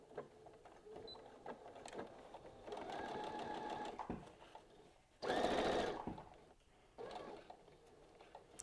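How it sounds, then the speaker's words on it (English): Sewing machine top stitching fabric, several short runs of fast, faint mechanical whirring and ticking separated by pauses, one burst louder than the rest, with no speech. "Now let's head over to the sewing machine, and all we're gonna do is top stitch really close to this opening right here"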